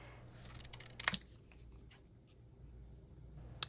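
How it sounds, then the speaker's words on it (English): Scissors trim a piece of printed paper for a scrapbook pocket page layout, giving a brief crisp snip near the one-second mark and a faint click later, close and quiet with no talking. "I'm just going to trim this out so that it can go on my layout."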